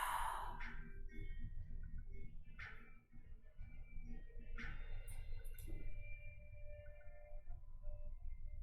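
A slow, soft exhale during a yoga session, a long breathy sigh near the microphone over a low room hum, followed by quiet rustling movement and faint shifting on a mat.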